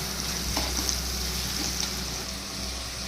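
A moong dal mixture with turmeric frying in a pan, giving a steady, dense sizzle with light stirring scrapes throughout, close and continuous.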